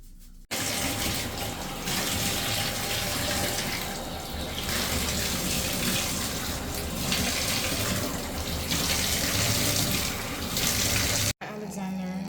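Water running steadily from a tap to rinse conditioner out of a toddler's thick hair, a continuous close rushing splash that stops abruptly near the end, with faint voices under it.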